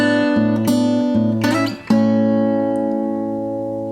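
Fingerstyle gospel blues guitar playing a descending line over a steady bass note, plucked notes stepping down with a ringing chord left to decay; close and clear, no talk.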